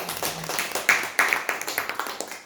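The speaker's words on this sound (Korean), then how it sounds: "하나님께 영광의 박수." A church congregation gives a round of applause in praise of God during a worship service, a scattered burst of hand claps settling into a steady rhythmic clapping, with voices mixed in.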